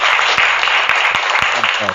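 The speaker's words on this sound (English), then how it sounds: "round of applause" A small group breaks into applause, a dense steady wash of clapping throughout, with voices talking and cheering over it.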